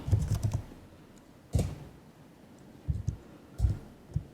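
Typing on a computer keyboard, close and clear, with short bursts of clustered key clicks separated by brief pauses.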